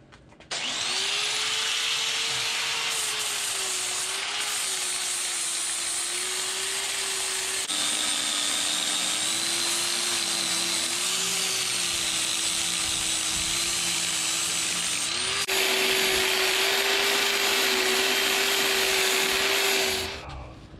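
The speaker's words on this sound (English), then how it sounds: "It's time to spend more time with our lovely friend, the grinder. Grind all our welds down smooth" Angle grinder runs steadily for about twenty seconds smoothing weld beads on a 13-bolt steel differential cover, a loud sustained whine with slight pitch shifts as pressure changes, no talking.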